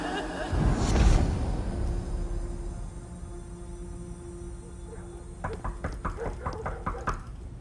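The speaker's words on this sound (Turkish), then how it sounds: "Kapı çalıyor." Several sharp knocks rap in quick succession near the end, following a louder muffled thump and low room noise.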